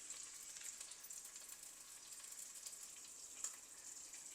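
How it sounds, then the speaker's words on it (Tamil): Dried fish frying in hot oil for a spicy brinjal and potato kuzhambu, a faint, steady high sizzle that continues without a break. "கருவாடு கொஞ்சம் பொரியட்டும்."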